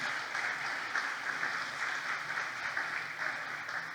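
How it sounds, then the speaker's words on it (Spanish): A congregation applauds during a church talk, a steady, moderately loud wash of clapping that carries on evenly for about four seconds with slight swells and no voices on top. "déle un aplauso al Señor"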